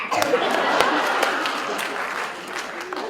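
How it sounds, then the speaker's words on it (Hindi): A crowd at a political rally applauds, a sustained, dense roar of clapping that holds steady from start to finish, with a voice heard over the noise. "ख्याख्या गरेर ताली ठोकिरहेछ"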